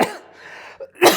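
Two close, harsh coughs bracket a brief pause with a short breathy throat sound between them, the second cough the louder and sharper of the pair.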